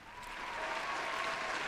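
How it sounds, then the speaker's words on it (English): Steady applause from an indoor audience, building slightly and holding at a full, continuous level throughout. "Applause."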